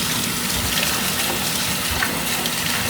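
Steady, continuous rush of water pouring into a large basin while small snails are washed, a loud broadband gush with no breaks throughout.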